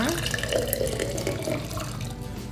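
Hot water poured from a tap or kettle into a quart glass jar holding sugar, a steady close splashing stream that runs continuously for a few seconds and fills the jar.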